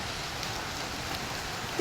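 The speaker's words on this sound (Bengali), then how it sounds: "হঠাৎ করে বৃষ্টি আসছে" Steady rain falling, a dense even hiss with soft patter throughout, fairly close and uninterrupted.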